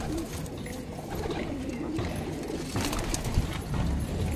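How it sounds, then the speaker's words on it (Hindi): Pigeons, including a blue-bodied hen, coo and stir in a loft or rooftop setting, a steady dense bed of soft cooing and fluttering with occasional brief louder flaps, heard throughout at close range. "ये कबूतर खुल चुके हैं भाई"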